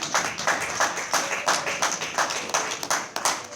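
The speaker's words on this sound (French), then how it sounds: "Acclamons très fort le nom du Seigneur." A church congregation claps and cheers in acclamation of the Lord, loud rhythmic applause with sharp, evenly spaced hand claps in a steady beat throughout, and no talking.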